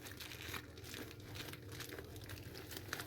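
Crinkling and crumpling of a plastic bag as it is pressed and sealed tightly shut to squeeze out all the air during home food prep, close and steady without speech.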